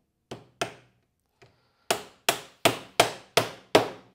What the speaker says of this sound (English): I want to be hammering onto a pretty flat surface.